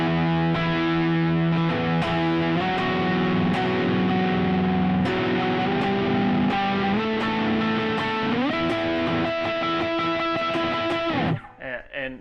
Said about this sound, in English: he goes up and does some octaves that sound like this